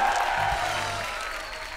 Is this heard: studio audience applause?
yes